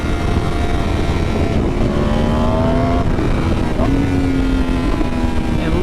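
Motorcycle accelerating past cars, engine pitch climbing steadily through the gears with rising harmonic whine, loud and close over a constant rush of wind and road noise.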